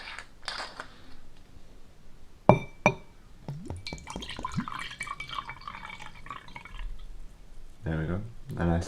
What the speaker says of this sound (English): I'm just going to pour it into a glass